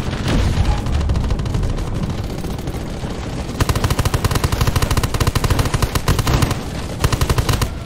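Loud, continuous automatic gunfire from a PvP battle in the video game Undawn, with rapid bursts stacking into a dense, unbroken rattle.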